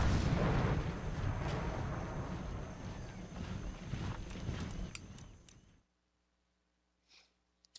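Cannons fire in the Napoleonic strategy game Imperial Splendour, in a battle between English and Spanish armies. Heavy rumbling booms roll together loudly for several seconds, then cut to near silence with one faint distant thud near the end.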